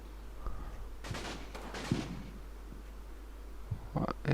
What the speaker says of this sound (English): it's more of our barrage falling.